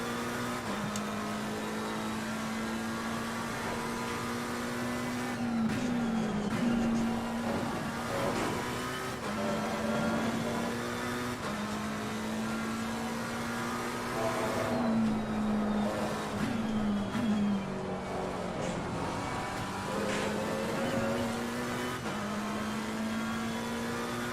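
A McLaren 720S race car in Assetto Corsa Competizione laps Imola, its engine droning steadily and rising and falling through gear changes and revs, loud and continuous with no talk.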